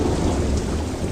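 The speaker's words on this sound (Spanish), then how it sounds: "la lluvia comenzó a caer sobre la superficie rocosa" Steady heavy rain pours onto a rocky surface, a dense continuous hiss with a deep rumbling thunder underneath, loud and unbroken throughout.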